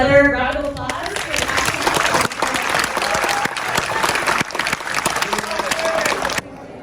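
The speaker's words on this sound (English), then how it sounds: "Let's give it another round of applause." Theatre audience applause at a film screening, sustained clapping from a crowd filling the room, loud and continuous for about six seconds before cutting off abruptly near the end.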